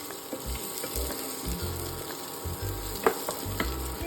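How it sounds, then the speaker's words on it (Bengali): French fries frying in hot oil, a continuous soft bubbling sizzle with occasional low knocks and a sharp clink near the end, heard close and fairly quiet with no talking. "তার আগে আমি ফ্রেঞ্চ ফ্রাইজ ভেজে নিচ্ছি"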